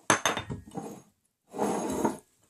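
A bowl is set down on a kitchen surface while brownie-making supplies are laid out. A few quick, close clinks and knocks are followed by a brief softer scraping clatter, all fairly quiet.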